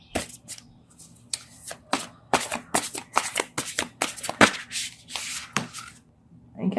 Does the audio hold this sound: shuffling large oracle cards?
yes